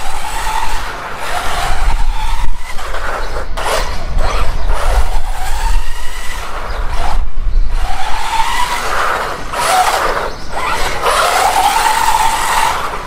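A WLToys 104001 RC car drives outdoors in the wind. Its electric motor whine rises and falls steadily over a rough, windy rumble, with no talking.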